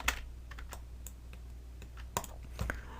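Keys on a computer keyboard are pressed in scattered, close, crisp clicks with a few sharper taps, as when deleting selections in 3D modelling software.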